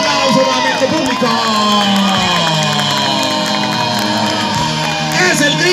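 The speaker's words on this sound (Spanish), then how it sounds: "¡Un aplauso para nuestro público!" A crowd at a bull riding event cheers, whoops and shouts loudly and continuously, a dense wall of voices with an announcer calling out over the noise.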